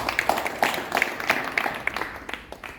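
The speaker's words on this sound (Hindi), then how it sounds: "मैं चाहता हूँ कि एक बार हम सभी सर और उनके खुशहाल परिवार के लिए जोरदार तालियों से स्वागत करेंगे।" Applause at a farewell ceremony for a retiring teacher, a modest group clapping somewhat loosely with distinct individual claps standing out, fairly quiet and steady over about three seconds, no speech on top.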